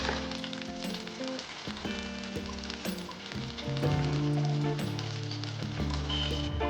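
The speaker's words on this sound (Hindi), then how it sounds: "मटन को धीमी आंच में पकाना है और इसे बीच बीच में चलाते भी रहना" Mutton stew for a traditional Bihar-style Angika recipe sizzles steadily on low heat while being stirred, a soft continuous frying hiss running beneath louder background music throughout.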